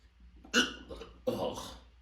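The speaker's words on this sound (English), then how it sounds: "I got the hiccups" Two or three abrupt hiccups from a person, sharp bursts separated by short pauses, close and fairly quiet.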